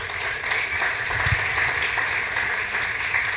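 An audience at a research update talk applauds and cheers for study participants, dense continuous clapping throughout, fairly loud and even.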